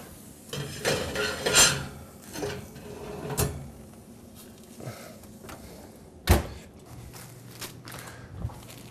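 A pizza stone goes back into a home kitchen oven, with clattering knocks, a sharp metallic clunk of the oven door and rack, and scattered kitchen handling sounds, close and intermittent.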